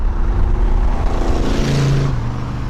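A 1965 Buick Riviera with a 401 Nailhead V8 and air suspension rumbles loud and close, its deep exhaust note swelling briefly in a short rev before easing off.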